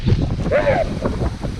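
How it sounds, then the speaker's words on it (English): Wind gusts through a snowstorm, a steady low rush of blustery noise buffeting the microphone outdoors, with a brief faint tonal whistle midway. "Oh, it's windy."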